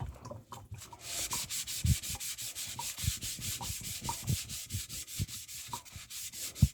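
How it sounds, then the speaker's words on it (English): A brush scrubs the black pieces in quick back-and-forth strokes, a close, rhythmic rasping that repeats steadily throughout with a few heavier knocks and no talking. "I did not scrub the black ones, so let me do that now"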